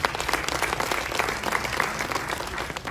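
An audience at a music event claps and applauds warmly, a dense, sustained burst of many hands filling the whole stretch without a break.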